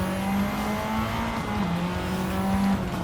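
A 500hp 2015 Mitsubishi Evo racing on a track in Gran Turismo 7, a sustained engine drone with rising and falling pitch as it accelerates, steady and fairly loud with no talk.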